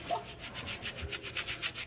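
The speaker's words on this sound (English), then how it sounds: "If you can clean those shoes, you don't have to do a lot, and then just start scrubbing." A brush scrubs lathered cleaner across a pair of shoes in a quick, faint, rhythmic back-and-forth rubbing, heard close up with no talking.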